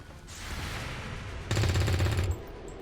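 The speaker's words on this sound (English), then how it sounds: "SMG shot on Overwatch, that's nice" Submachine gun fire from an Overwatch reaction shot in XCOM 2, a short rattling automatic burst that swells loud for under a second after a brief lead-in, with no talk.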